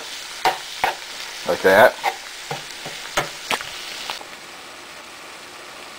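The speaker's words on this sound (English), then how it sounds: "Next I'm going to add 1 chopped onion, and just stir it up in the mixture" Chopped onion stirred through a sizzling loaded nacho mixture in a pan, with a run of clattering utensil scrapes over steady frying hiss that fades to a quieter sizzle near the end; a brief spoken phrase passes early.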